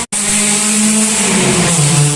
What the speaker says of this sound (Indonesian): Ada mobil yang lagi kentut.